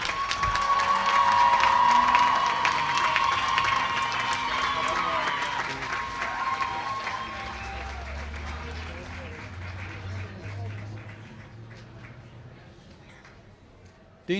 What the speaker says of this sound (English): Let's give a round of applause to the MPP graduates